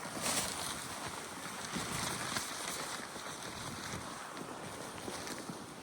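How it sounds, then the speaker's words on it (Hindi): Strong wind at a snowy campsite during a night snowstorm roars steadily as a broad rushing noise, heavily buffeting the microphone, with gusts surging throughout. "ये देखें कितनी तेज हवा चल रही है भाई।"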